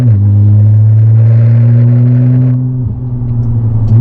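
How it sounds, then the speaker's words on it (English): Deep, steady exhaust drone from a Nissan GT-R idling at low revs after an exhaust malfunction, loud and close, with a slight dip and wobble near the end. "The sound is much deeper on the low revs, and that noise is really a pain."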